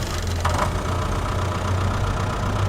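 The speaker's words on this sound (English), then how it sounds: "I do like driving this tractor in the cab, gotta say." A tractor engine idles steadily inside the cab in Farming Simulator 22, a continuous low rumble with a faint knocking texture that holds at an even, fairly loud level throughout.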